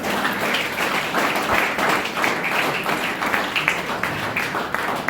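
An audience claps together, a dense, lively patter of many hands that carries on evenly for several seconds.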